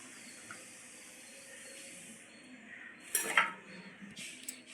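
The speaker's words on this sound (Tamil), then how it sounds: "இப்படி விஸ்க் வச்சு நல்லா பீட் பண்ணிடணும்" A whisk beats rava cake batter in a bowl over a soft background hiss, building to a brief burst of rattling clatter against the bowl near the end.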